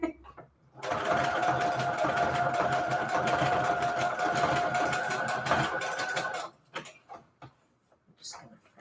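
A sewing machine runs steadily for about six seconds, stitching a decorative Frankenstein-style pattern on paper, with a loud, even mechanical whir that stops abruptly, followed by a few faint handling clicks.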